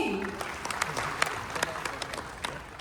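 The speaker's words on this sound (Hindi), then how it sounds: "इसी बात पे ठोको ताली।" A crowd claps steadily, scattered sharp hand claps over a dense applause wash, lasting a few seconds with no clear voices.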